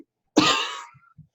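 A voice imitates one harsh, loud cough up close, followed by a couple of faint throat sounds.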